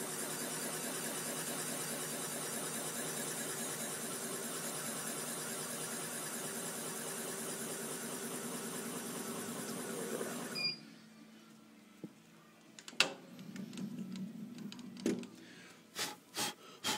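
A machine bores valve seats in a Porsche 996 cylinder head with a steady, fairly quiet grinding whir for about ten seconds, then stops, leaving scattered clicks and clatters of handling.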